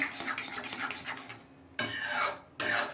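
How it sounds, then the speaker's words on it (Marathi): Besan is stirred in a pan for Maharashtrian pithla, the lumps broken up as it cooks. Close scraping strokes come in a busy run, pause briefly, then return as two short bursts. "याच्या बेसनच्या गाठी होतात, अशा हलवतच फोडून घ्यायचे"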